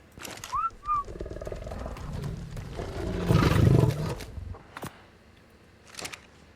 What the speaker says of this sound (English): I got animals upon animals upon animals.